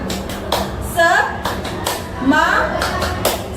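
A group in a school counseling session claps a rhythmic ice-breaker, sharp claps landing roughly every half second while children and adults chant and talk loudly over them.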